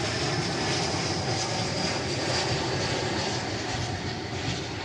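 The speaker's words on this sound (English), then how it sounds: "We have another American Airlines Widebody on the way in after this plane arrives." An American Airlines widebody jet landing at Dallas Fort Worth airport, its engines a loud, steady broadband roar that holds without a break for several seconds, with no voices.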